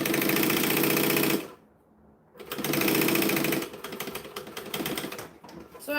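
A sewing machine stitching close to the fabric edge while sewing a kangaroo toy, running in loud, rapid bursts with one brief pause between runs.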